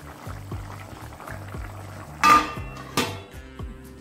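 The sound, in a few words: lid placed on a pot of papaya and potato curry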